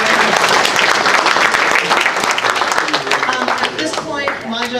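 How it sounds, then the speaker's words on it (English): Sustained applause from a meeting audience honoring the program host at a Marin Coalition water event, dense and steady clapping throughout with some voices mixed in near the end. "Also, just a big round of applause for Dennis, our program host."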